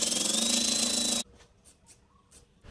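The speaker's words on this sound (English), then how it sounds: "So I'm going to sand that up now, give it a paint" Power sanding on a rusty seam of a Land Cruiser 80 series body, a loud steady grinding whir close by that cuts off abruptly partway, leaving faint workshop noise and scattered light knocks.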